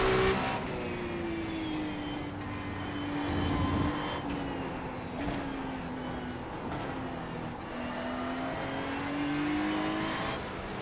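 A GT3 race car engine in a racing video game holds a loud, sustained drone that rises and falls through the revs, broken by quick gear-shift dips and throttle lifts, continuous and alone without talk.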